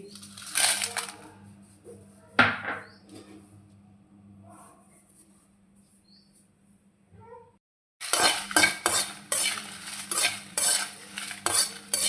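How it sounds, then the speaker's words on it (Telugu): Dry red chillies frying in a pan for drumstick leaf powder, scraping and clattering stirring in bursts with a faint sizzle, a quiet lull midway, then busy close stirring resumes. "ఇందులో ఎండుమిర్చి వేయించి వేసుకుందాం"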